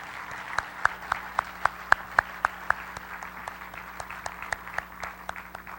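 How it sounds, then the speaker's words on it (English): An audience at a high school academic awards ceremony claps in a round of applause, with sharp rhythmic claps standing out over a steady crowd patter, moderately loud in a large room. "Could we give everybody one more big round of applause?"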